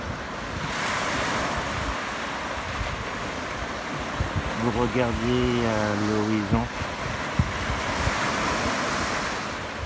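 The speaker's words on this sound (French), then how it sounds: "Vous êtes bercé par le mouvement de ces vagues." Sea waves lapping against rocks along the shore, a steady rushing wash with wind noise, while a person speaks calmly partway through.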